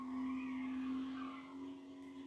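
Race cars skid in a video game, their tyres squealing in a loud, sustained whine that fades slightly toward the end, with engine noise underneath.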